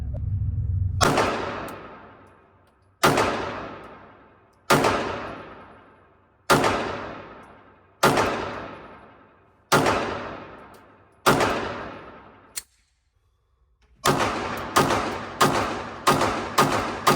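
Gunshots from a Springfield Armory Echelon 4.0c pistol, about seven loud, evenly spaced single shots with ringing decay, a pause, then a quicker burst of five or six shots.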